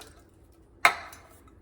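Canned chili-ready tomatoes drop into a crock pot with a single soft, wet plop that fades quickly, alone against a quiet kitchen background.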